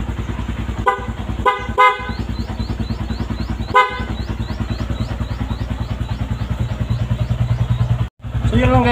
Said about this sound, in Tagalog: sobrang lakas yung busina niya.